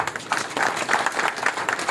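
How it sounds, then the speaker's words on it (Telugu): An audience at a plenary meeting breaks into applause, a short burst of many hands clapping in rapid uneven waves, moderately loud and close, with a faint hint of voices underneath. "ఈ ప్రతిపాదన ఓకే అయితే అందరూ చప్పట్ల మధ్య"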